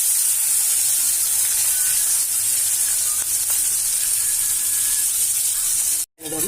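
Chopped onion fries in hot oil with a steady, bright sizzle and hiss that runs unbroken and fairly loud, with only a brief gap near the end.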